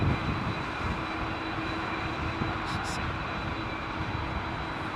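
A jet airliner with big turbofan engines roars steadily during takeoff at Heathrow in Storm Ciarán, a broad, distant-sounding rumble under heavy wind noise, with brief talk from nearby voices.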